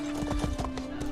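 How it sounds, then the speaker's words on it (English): Horse hooves clip-clopping in the Elder Scrolls Online video game, a quick run of steady, evenly spaced hoofbeats close up, with a brief whinny-like call over the top. "Come to me, my horse!"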